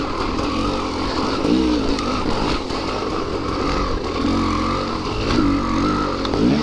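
A KTM 300 XC-W two-stroke dirt bike engine runs close by with a raspy, buzzing drone that rises and falls in a few short revs, heard alone.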